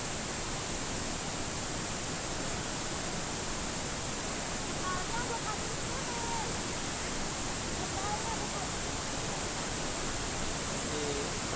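River water rushing through a narrow channel at Curug Ibun Pelangi waterfall, a constant dense roar filling the whole scene, loud and unbroken throughout.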